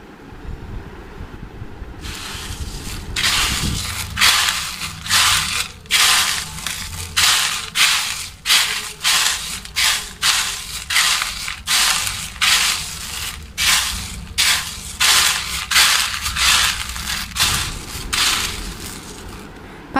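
Crisp sun-dried bath powder ingredients are crushed by hand close up, a long run of rhythmic crackling crunches, each burst sharp and brittle, repeating about once a second with no talk.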